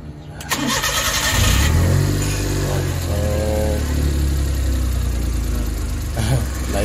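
A Suzuki DA52T Big Eye with a hard-starting check-engine problem cranks briefly, catches and settles into a loud, steady idle rumble up close, with a voice speaking faintly.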